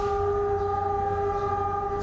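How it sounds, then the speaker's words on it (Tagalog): Philippine National Railways train horn sounding loud and steady with sustained tonal chords over low rumble of an approaching train, alone without talk. "Sino makakalimot sa lakas ng tunog ng paparating na tren ng Philippine National Railways?"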